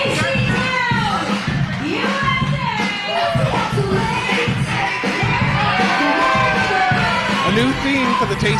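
A wrestling crowd at a UPW Uprising show roars and cheers continuously during a wrestler's entrance, loud and dense, with shouts and whoops over entrance music.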